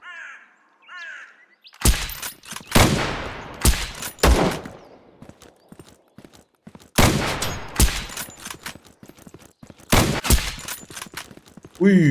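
Several sharp bursts of gunfire from the game Zero Sievert crack out in separate clusters, loud and close, with short gaps between volleys and faint bird-like calls at the start.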